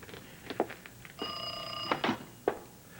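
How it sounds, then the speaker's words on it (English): A telephone bell rings once in a short burst, surrounded by a few soft thumps and faint indoor noises. "The phone is ringing."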